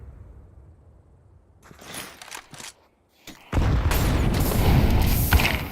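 Grenades detonate in a Counter-Strike professional match: a few sharp clattering bursts after near silence, then a loud, sustained booming blast that fills the rest of the clip.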